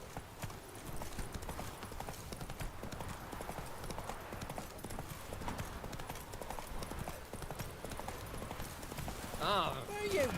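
Roach the horse's hooves clip-clopping at a steady walking rhythm in The Witcher 3, a continuous, moderately close patter of hoofbeats that runs under a man's speech, ending with a brief whinny.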